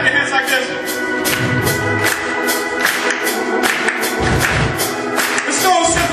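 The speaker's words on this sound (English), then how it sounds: "I need you to clap your hands like this." A worship congregation claps its hands in a steady, rhythmic beat along with church music, the sharp regular claps repeating roughly twice a second over the sustained instruments.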